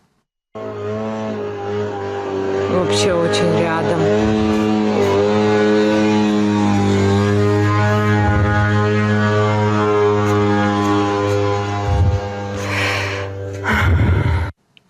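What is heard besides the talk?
attack drones flying, moped-like engine buzz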